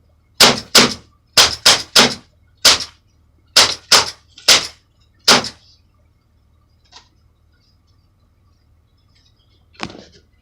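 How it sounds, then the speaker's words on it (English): A Crosman Vigilante air pistol fires in quick double-action succession, sharp close snaps in an irregular burst of about ten over five seconds, then quiet with a faint click and one more snap near the end. "I'm going to rapid fire 10 shots. Double action."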